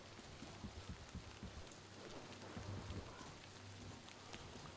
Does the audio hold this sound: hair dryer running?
no